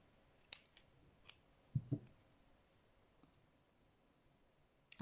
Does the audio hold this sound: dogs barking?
no